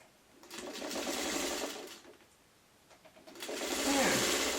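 A sewing machine stitches a quilt seam in two bursts of close, steady whirring separated by a short pause, the motor rising and settling with each run.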